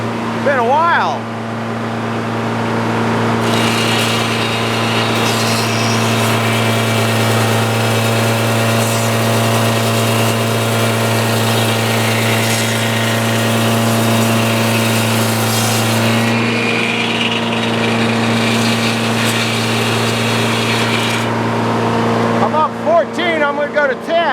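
An engine drives a sawmill setup for cutting pallet lumber, running with a loud, steady tonal drone throughout, its pitch rising once the RPMs are turned up midway, heard close with no talk over it.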